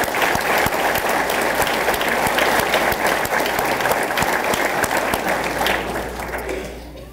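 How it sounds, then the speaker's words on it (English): Loud, sustained applause from the audience at a fire and rescue awards and promotion ceremony, many hands clapping densely and evenly before tapering off over the final second. "Let's give all of them a round of applause."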